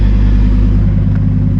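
A Lamborghini Huracan RWD EVO Spyder engine rumbles loud and close, a steady deep drone that holds throughout the short drive with no speech.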